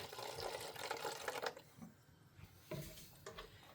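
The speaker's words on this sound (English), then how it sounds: "I've got my 4 cups of water right here, and I'm going to pour them right back into the container" Four cups of water poured back into a container while making mini meatball soup, a close, fairly quiet splashing pour for about a second and a half, followed by faint handling sounds and small trickles.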